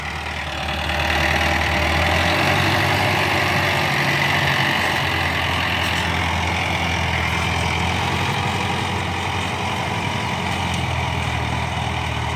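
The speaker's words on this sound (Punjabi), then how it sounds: "ਇਹ ਵੀ ਚੌਥੇ ਲੋਅ 'ਚ ਹੀ ਚੱਲਦਾ ਪਿਆ ਟਰੈਕਟਰ" An Arjun tractor fitted with a company turbo runs steadily in fourth low gear in a field, its engine a continuous loud, close drone with a deep low throb.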